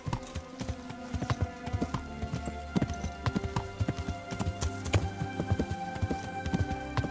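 Horse hooves clip-clop in a steady, close trotting rhythm in a video game, a medieval-style adventure set around Skalitz, the hoofbeats continuous and prominent under a soft musical bed.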